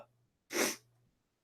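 A single close, sharp sneeze bursts out in a quiet room, followed by silence and the start of another burst at the very end.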